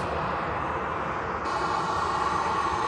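An EasyJet airliner taxis at Manchester Airport, its jet engines a steady, broad roar with a low whine that grows slightly louder partway through.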